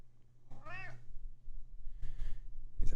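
A Maine Coon cat meows once clearly and close, then gives a softer second call, with a faint thump at the end over quiet room noise.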